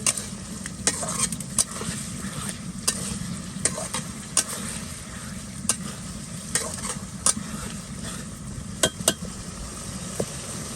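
Hilsa fish and vegetables cook in a pan with a steady sizzle, broken by frequent sharp clinks and scrapes of a utensil being stirred against the metal.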